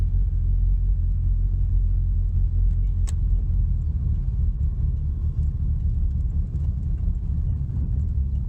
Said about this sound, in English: This is the first time this car has been driven on public roads in, I think, 29 or 30 years.